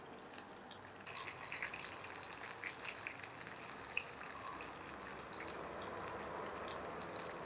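A breaded king oyster mushroom cutlet pan-frying in oil, one piece at a time, gives a steady, quiet hiss with fine crackling spatter throughout and no voices.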